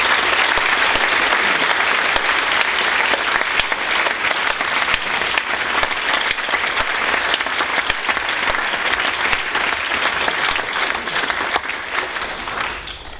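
An audience applauds steadily for Professor Terry Eagleton at the Hatfield College Lecture 2014: dense, sustained clapping from a full room that holds at an even level for the whole stretch and tapers only slightly at the end.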